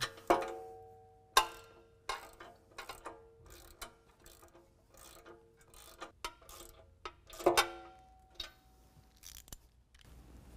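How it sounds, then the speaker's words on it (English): A lock nut and washer are tightened onto a bolt on a Jeep JL front bumper, with a ratchet giving quick clicking bursts and metallic clinks, close and fairly quiet. "So we're just going to put a washer and one of the lock nuts on there. Go ahead and tighten that up."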